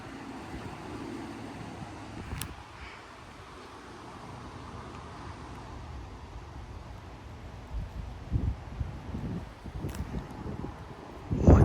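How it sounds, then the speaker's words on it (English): Strong wind gusts roar and buffet around an outdoor spot in Frisco, Texas, a steady broadband rush that swells toward the end with rumbling microphone buffeting and a few sharp knocks. "The wind was blowing directly at me too"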